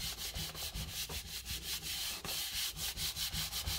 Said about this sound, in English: I'm going to take this and I'm going to rub this one more time